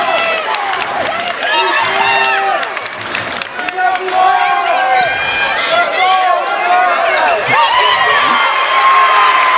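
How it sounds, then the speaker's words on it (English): A raucous home crowd at a high school boys' basketball semifinal, with loud, continuous cheering, shouting and clapping that swells repeatedly, sneaker squeaks and whistling cries over it. "The Windham crowd is raucous."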